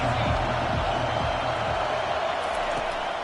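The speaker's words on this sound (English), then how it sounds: "crowd going to try to make life miserable for these guys" Stadium crowd roaring continuously at a college football game during a kickoff return, a dense, steady wall of noise with no pauses and no clear individual voices standing out.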